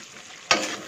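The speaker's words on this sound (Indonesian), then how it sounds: "kita tunggu wortelnya masak ya" Carrots cook in a pan with a close, bright sizzle that surges suddenly halfway through and then keeps frying steadily.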